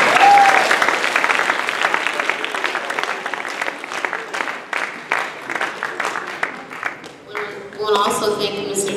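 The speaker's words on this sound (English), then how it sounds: "If you give her a round of applause" School audience applause for a guest speaker in a room, a steady patter of clapping that gradually thins, followed by a voice speaking at the end.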